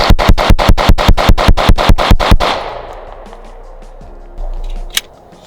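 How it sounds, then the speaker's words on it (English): Glock 19 pistol emptied in a rapid mag dump, about a dozen sharp evenly spaced shots in quick succession, loud and close, followed by a quieter tail of ringing and faint handling noise. "how about we just do a mag dump on this one?"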